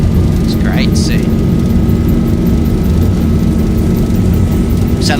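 Boeing 737 jet engines roar steadily during a takeoff roll in a flight simulator, a loud constant drone with a whining tone and brief faint chirps over the top.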